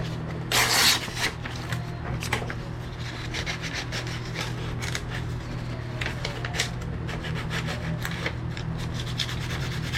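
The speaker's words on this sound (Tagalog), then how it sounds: "Maglilihan na tayo mga boss." Hand sanding a Yamaha Mio Sporty engine cover makes a close, scratchy rubbing sound that repeats in quick strokes, with one louder burst near the start and a low steady hum behind it throughout.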